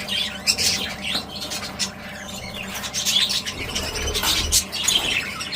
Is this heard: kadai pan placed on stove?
no